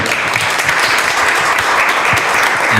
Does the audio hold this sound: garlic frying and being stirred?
no